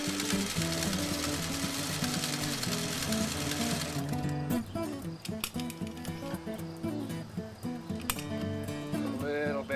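A 1951 Singer 301 sewing machine run by knee control stitching steadily, a fast even whirring buzz that later slows into choppier mechanical clatter, close and continuous.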